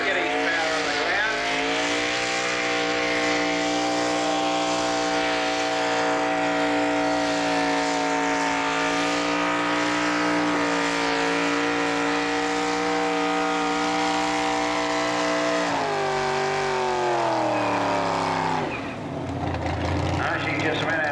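A pulling tractor at the 1986 Colbinabbin tractor pull roars loudly and steadily for about twenty seconds, its pitch sagging and recovering as the load bites, with crowd voices and commentary running underneath.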